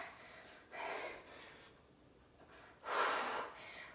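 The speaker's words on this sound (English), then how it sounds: "Breathe, breathe, breathe." Heavy breathing during a 16-minute stacked workout, with two loud, breathy exhalation bursts separated by quieter breaths, close to the microphone and with no talking.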